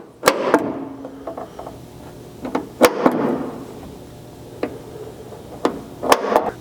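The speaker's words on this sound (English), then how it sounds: "So I'm going to center punch in the center of each mark" Several sharp metallic taps ring out at uneven intervals, a hammer striking a center punch against metal on a pickup bed stiffener, some single and some in quick pairs.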